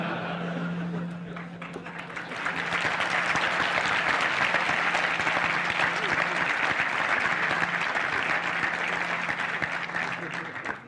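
A conference audience in Chile breaks into sustained applause, a dense wash of clapping that swells after a couple of seconds and holds steady, with voices mixed into the crowd noise.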